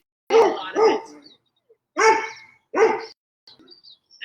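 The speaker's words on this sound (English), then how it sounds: "That's our neighbor dogs." Neighbor's dogs barking next door in four distinct sharp barks, in two quick pairs separated by pauses, fairly loud and clear against quiet surroundings.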